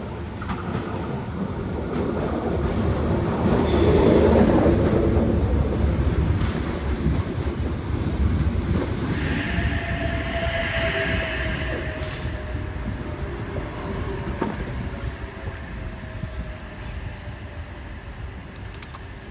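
A Sydney Trains Oscar passenger train on the Hamilton–Newcastle service rumbles in and slows beside the platform at Gosford, a steady roar that swells then eases, with a brief high squeal of brakes and gusting wind noise.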